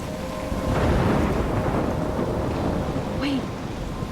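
Steady roar of a heavy thunderstorm with rain in Life Is Strange, a continuous loud wash of rainfall and rumbling thunder, with a brief rising whistle of wind near the end.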